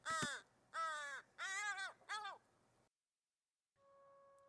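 An American crow gives four loud, harsh caws in quick succession, each a short rasping call, followed by silence and then a faint steady tone.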